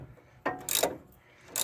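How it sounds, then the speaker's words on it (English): A ratchet wrench working on a 3/4 end link bolt of a Jeep Grand Wagoneer sway bar, making a couple of quick close clicking ratchet bursts. "we're going to go ahead and remove the upper bolt. This one is a 3/4 on the end link bolt and nut."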